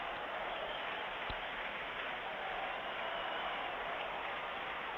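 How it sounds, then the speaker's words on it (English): Baseball stadium crowd in Houston during a late inning, a steady broad roar of many voices held at an even level for the whole stretch, with one sharp knock partway through. "This crowd starting to make some noise"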